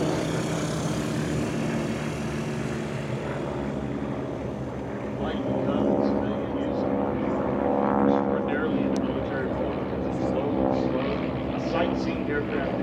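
A warbird aircraft roars past low down the runway at an air show, the engine drone swelling and then fading while an announcer talks over it.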